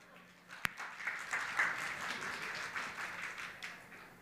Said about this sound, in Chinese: 感谢您各位的掌声鼓励